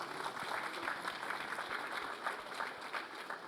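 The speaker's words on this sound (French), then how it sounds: "On peut les applaudir." An audience applauds award winners at an innovation trophy ceremony in Rennes, a steady wash of many hands clapping throughout, moderately distant and filling the room.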